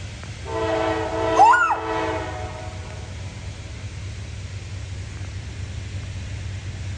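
A train horn blares once, then a diesel freight train rumbles past with a steady low drone and hiss that fills the rest of the clip.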